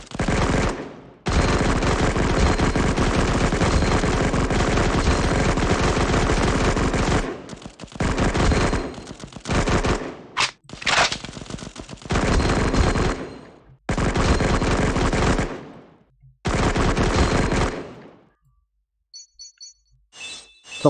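Sustained automatic gunfire from the Cover Fire mobile shooter, long loud bursts broken by short pauses, with a few shorter volleys and clinking near the end.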